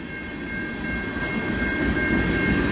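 A CN freight train of tank cars rolls past in Montreal's St-Henri borough, a steady loud rumble of wheels on rail with a sustained tonal squeal throughout.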